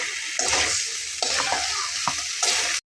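Previously fried taro pieces stirred and fried in a pan in a dal-based dish, giving a steady broadband sizzle broken by several louder scraping stirs, close and loud, ending abruptly.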